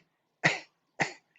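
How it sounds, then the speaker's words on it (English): Two short, sharp coughs, about half a second apart, close and clear in near silence during a healing class. "So we have this cough,"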